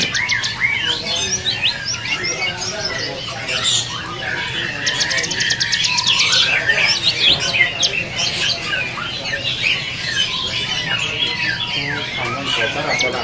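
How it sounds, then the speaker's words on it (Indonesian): Canaries and other caged songbirds chatter and squawk together in an Indonesian bird kiosk, a dense, steady mix of chirps, trills and harsh calls running the whole time with shop noise beneath. "Ini kenari apa? Kenari Evan."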